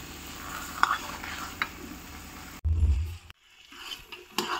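Carrot halwa being dried out in a pan as the milk cooks off, giving intermittent soft sizzling and stirring scrapes, with a brief louder low rumble partway through and quiet gaps.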